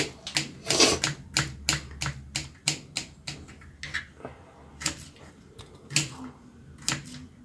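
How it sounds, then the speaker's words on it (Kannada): Knife chopping garlic cloves finely on a board for a fenugreek paratha, a steady run of sharp close taps with brief pauses, loud and clear with no talk over it. "ಬೆಳ್ಳುಳ್ಳಿ ಕೂಡ ಇದೇ ಥರ ಚಿಕ್ಕದಾಗಿ ಕಟ್ ಮಾಡ್ಕೊಳ್ಬೇಕು."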